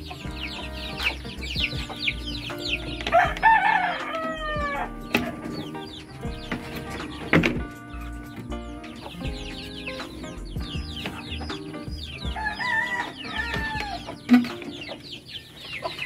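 Chicks on a farm peep in rapid chirping bursts, joined by adult chickens clucking, over scattered knocks and rustling. The chorus rises and falls across the stretch and is fairly close, with no talking.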